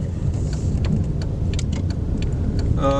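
Audi A3 8L 1996 1.9 TDI diesel at full throttle, with a modified turbo and front-mounted intercooler: a steady, dense low engine roar filling the whole clip from inside the car, with faint rattles and clicks over it.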